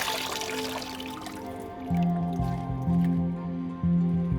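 Wet, freshly dyed feathers for handmade shuttlecocks are wrung out by hand in an Indian village, giving close squishing and dripping sounds over a steady low hum, with no speech.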